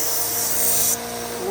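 A Henckels kitchen knife is stroked along a sharpening stone in a steady, close scraping rub with a bright hiss that drops away partway through.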